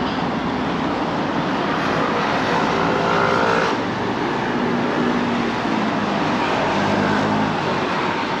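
Traffic streams along the seafront road of the Paseo Maritimo in Palma de Mallorca, a loud, continuous close roar of passing vehicles with swelling engine and tyre noise and no clear gaps.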